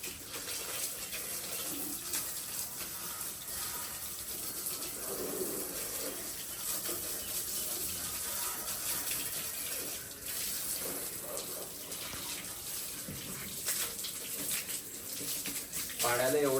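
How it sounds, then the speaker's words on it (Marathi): Water sprayed from a hose onto a dusty motorbike while it is washed outdoors, a continuous hissing rush with shifting splashes and gushes, and a person talking over it. "पाणी मारून घ्यायचं आहे फक्त"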